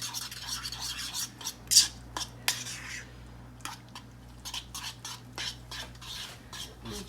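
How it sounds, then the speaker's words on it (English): Eggs and Fiesta blend shredded cheese stirred in a bowl, giving soft scraping and rubbing strokes with occasional utensil clinks against the bowl, close and moderately quiet, with a steady low hum underneath. "And we're going to stir it up in this bowl."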